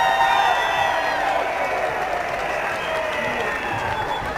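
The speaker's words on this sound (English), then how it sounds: "put your hands together now for the Aussie Cossack" Applause and cheering from a crowd at a political rally, a loud continuous wash of clapping with scattered whoops that holds steady throughout.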